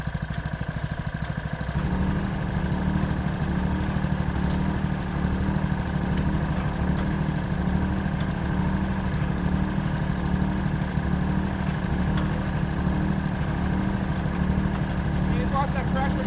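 Engine powering a gold mining trommel, a steady mid-pitched motor drone with a constant hum that runs unbroken and fairly loud, with a slight shift in tone after the first couple of seconds.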